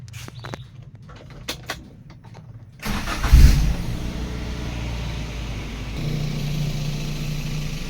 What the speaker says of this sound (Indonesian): Untuk selanjutnya marilah kita cek nyalakan mesinnya ya